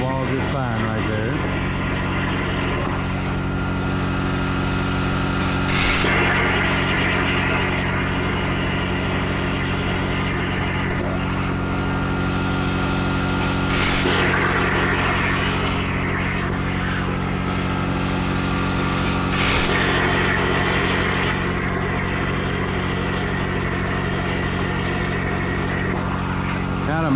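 A CNC plasma cutter slices a metal gas station sign, giving a steady, loud mechanical hum under repeated bursts of harsh hissing as the torch works through the sheet.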